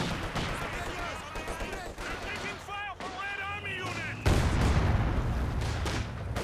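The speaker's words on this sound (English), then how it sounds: "Big damage there from the heavy mortar." Heavy mortar and rifle fire in a Company of Heroes 2 battle, scattered gunshots and thudding impacts with a sharp loud blast near the middle, a voice talking over much of it.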